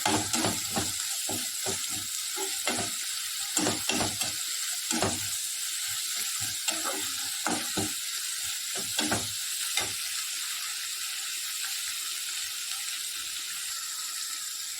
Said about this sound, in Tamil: நல்லா வதக்கிக்கணும். நல்லா வதங்கணும். இப்போ இதோட ஒரு கைப்பிடி கருவேப்பிலையை நம்ம ஆட் பண்ணிக்கிறோம்.